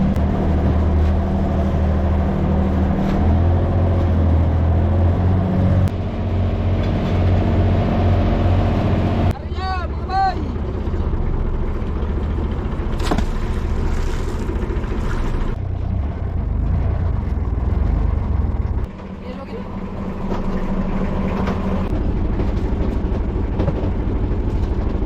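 A steady, loud motor drone runs throughout with rumbling low tones, like a small boat engine chugging along; a voice speaks faintly over it at times.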